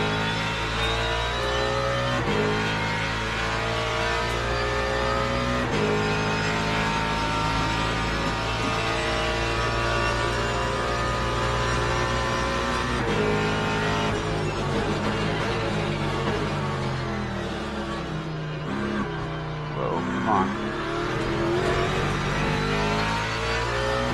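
A race car engine in Le Mans Ultimate revs and shifts through gears, pitch climbing and dropping repeatedly, loud and continuous with no voices over it.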